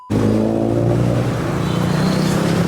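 A car engine on the road revs hard and steady close by, starting abruptly and holding a loud, continuous drone throughout.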